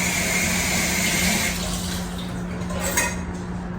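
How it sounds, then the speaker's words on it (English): Grape tomatoes rinsed under a running kitchen tap, with steady water flow and faint clinks from the sink over the first half, then thinning out. "Grape tomatoes. Rinse them off"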